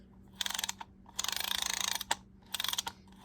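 Anti-reverse ratchet of a Sears Roebuck 779 spinning fishing reel, a fast mechanical clicking in several short bursts separated by pauses, close and quiet with no talking.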